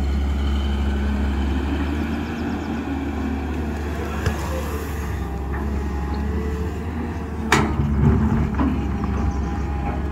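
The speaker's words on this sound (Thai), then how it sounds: "ดันโหลนเร่งเครื่องเบาๆครับ" An excavator engine revs lightly at a steady, close, low drone while digging in hard ground, with a brief knock or clank near the end and no talk.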